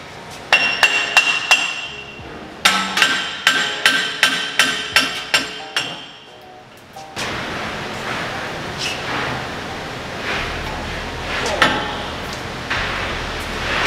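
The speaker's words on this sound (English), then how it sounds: "Jeep's new enough, I can just tap them out." Hammer tapping out the axle shafts on a Jeep Wrangler Rubicon JLU during a gear swap: a run of about ten sharp, ringing metallic strikes in a steady rhythm, close up, followed by softer clanks and shop noise.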